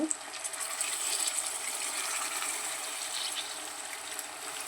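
Water from boiled mutton bones pours into a mutton keema curry in the pot, a steady close splashing gush that tapers slightly over a few seconds, with no talking.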